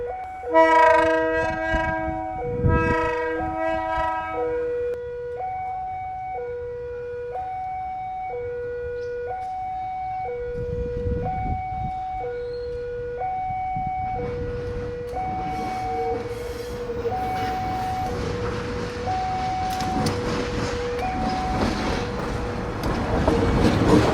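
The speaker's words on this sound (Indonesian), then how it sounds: "Udah dilepas dari rangkaian bandul, berjalan ke arah timur." A detached diesel locomotive rumbles east past a closed level crossing as the crossing bell alternates in a steady two-tone ding-dong, and a horn blast sounds near the start. The engine noise swells louder toward the end.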